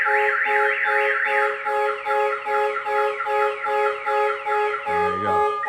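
A Compustar Q9 alarm on a JDM Subaru WRX blares close and loud, cycling through rapid warbling tones in a repeating pattern before a brief chirp sequence at the end.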